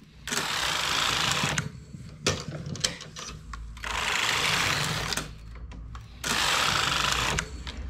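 A knitting machine carriage is pushed across its needle bed in three loud, whirring passes, each lasting about a second and a half, separated by brief clicks and quieter pauses.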